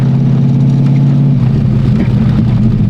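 Close, loud, steady idle of a car engine that is misfiring and running rich, its carburetor out of tune, giving a continuous low rumble with a slightly uneven, lumpy pulse and no speech.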